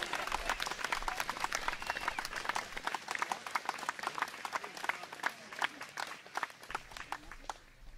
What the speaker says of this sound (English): I'm going to give that a clap.